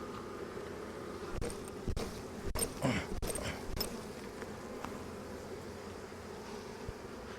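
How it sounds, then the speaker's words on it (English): Honeybees being shaken out of a hive box make a faint, continuous buzzing hum, with a few sharp knocks and thumps from the box in the middle. "that's my biggest complaint, I guess, with these is just kind of a pain to get the bees out of here"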